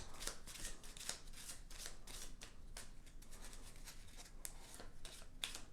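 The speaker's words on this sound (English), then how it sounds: "we're going to take all of those cards again and we'll shuffle those up" A deck of board game cards for Burgle Bros is shuffled steadily, with continuous close riffling and flicking that runs on without pause, faint and alone.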